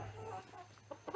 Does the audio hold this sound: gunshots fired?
no